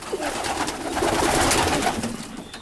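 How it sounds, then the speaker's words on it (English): White racing pigeons coo steadily inside a loft full of young and old birds, a continuous murmur of overlapping calls close by with no talking. "got plenty of young birds in here"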